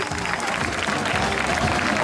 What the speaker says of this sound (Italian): Glielo facciamo un bel applauso a Dorina.